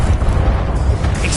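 A Confringo fire spell in Hogwarts Legacy bursts with a heavy, booming explosion, loud and rumbling deep through most of the moment, with a brief crackle near the end.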